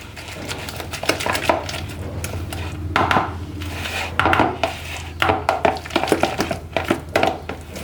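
A spoon works lentil batter for dahi bhalla around a bowl, producing close, irregular clinks and scrapes in short bursts without any speech.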